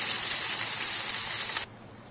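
Ginger and garlic paste frying in hot oil, giving a steady bright sizzle that holds evenly and then stops abruptly, leaving quiet.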